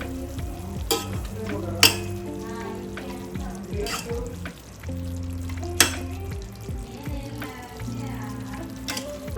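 Chopped mint and chili powder fry and are stirred in a pan for an egg curry, a steady sizzle under repeated scraping strokes of a spoon, with a few sharper clanks against the pan.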